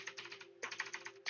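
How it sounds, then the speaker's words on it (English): Quiet, close typing on a computer keyboard in quick, uneven bursts of clicking keystrokes, with a brief pause between runs and no voices. "Let's type out the word list of our choosing."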